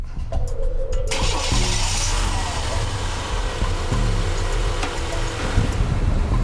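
A car being jump started cranks briefly, then its engine catches and settles into a steady rough idle, loud and close, with wind noise over the microphone.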